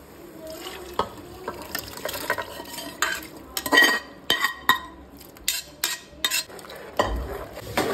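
Cooked mutton head curry is stirred in a pan, giving irregular scraping and clinking of a spoon against metal with wet, thick sloshes, fairly close but soft, with no talking.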